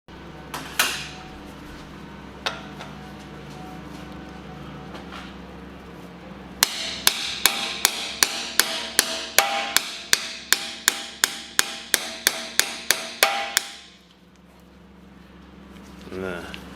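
About fifteen sharp, evenly spaced hammer blows ring out on a rusty rotor screw of a Honda, a rapid metallic series after a couple of earlier isolated knocks, close and loud, with quiet background before and after.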